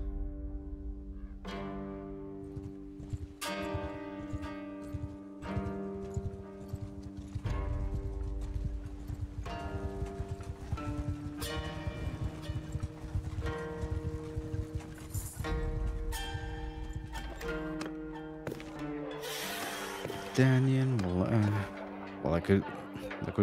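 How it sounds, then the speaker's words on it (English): Horse hooves clip-clop in Mount & Blade II: Bannerlord, repeated steps under steady game music with someone talking over much of it and a brief whinny-like burst near the end. "Horse."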